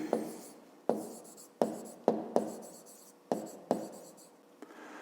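Chalk or marker taps and scrapes on a board while a school math problem is solved, making sharp, close strokes roughly every half second in irregular bursts, each fading quickly, with no speech over them.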